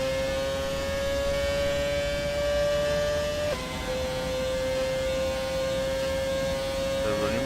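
Red Bull Formula 1 car from a 2010 exhibition, driven in F1 2017 at Japan, a steady loud high-pitched engine drone held almost flat with one brief dip in pitch partway through, with no talk.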